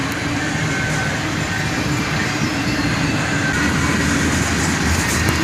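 CSX freight cars, including boxcars and auto racks, roll past up close in a steady, loud rumble with wheel clatter and faint squeal throughout, no voices.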